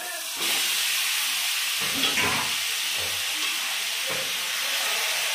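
Taro leaves tipped into a hot pan with fried chickpeas, onion, garlic and chili, a loud steady steamy hiss that starts suddenly, with scraping stirs over it.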